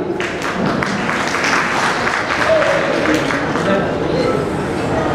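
Audience clapping at a student merit award ceremony in Mumbai, a dense sustained patter of applause from a hall crowd, with voices mixed in underneath.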